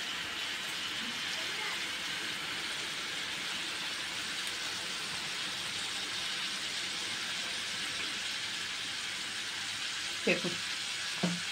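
Vegetables with a small amount of tomato sauce sizzle steadily in a pan on a shop-style cooking setup, a constant close frying hiss with a couple of sharp clinks of a stirring utensil near the end and a brief spoken word.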